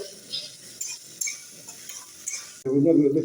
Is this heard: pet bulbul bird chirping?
no